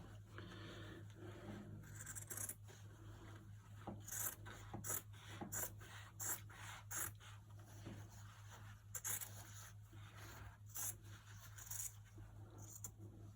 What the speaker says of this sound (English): it's always going to be tougher to cut through a seam than it is to cut through just straight fabric